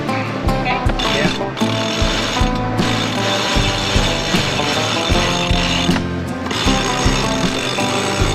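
A sailboat winch ratchets loudly and up close as sails are raised off Menorca, with fast, continuous clicking of the pawl and a few heavier mechanical knocks.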